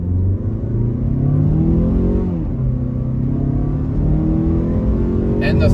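A 2018 Mazda CX-5 SUV in sport mode pulls hard under steady throttle, its engine droning loud and close with a rising pitch that dips once as it shifts, then climbs again over constant road rumble.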